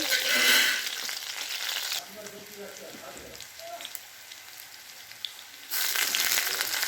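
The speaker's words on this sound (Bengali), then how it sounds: "তেলটা আমার গরম হয়ে এলো, এর মধ্যে লঙ্কা কাটাগুলো দিয়ে দিলাম। লঙ্কা কাটাগুলো একটু ভেজে নেব।" Chopped green chillies fry in hot oil, a loud bright sizzle at the start that drops to a softer crackle in the middle, then surges back to a full hiss near the end.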